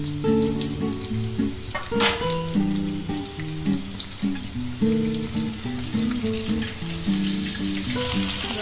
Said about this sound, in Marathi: कांदा छान ब्राऊन होईपर्यंत हलवून घेऊया